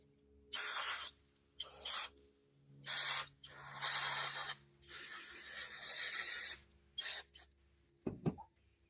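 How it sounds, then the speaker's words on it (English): Bursts of aerosol cleaner sprayed onto a Ford Escape throttle body during a rough-idle fix, several close hissing blasts of varying length separated by short pauses, then a couple of brief knocks at the end. "That's just spraying it out."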